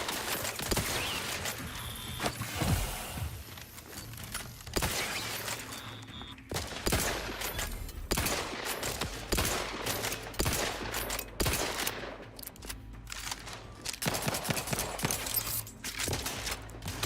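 Video game gunfire crackles in rapid, irregular bursts and repeated sharp shots throughout, fairly loud and close, with a brief pause partway through before firing resumes.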